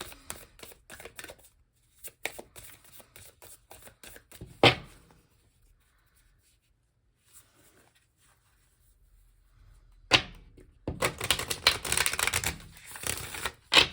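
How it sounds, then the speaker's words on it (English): A deck of cards is shuffled in several bursts of rapid papery flicking, then a quiet pause, then another long run of brisk shuffling. "let me go ahead and shuffle this next deck as well"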